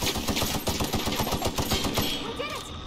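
Sustained rapid automatic gunfire from a gun in the video game The Outer Worlds, a loud, close stream of shots without pause that trails off slightly at the end.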